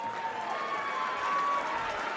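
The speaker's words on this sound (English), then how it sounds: "as she leaves the stage, a massive round of applause for your finalist from the Netherlands, Eileen de Graaf" Audience applause at a darts world championship, a dense steady clapping from a large crowd filling the hall, with a voice faintly under it.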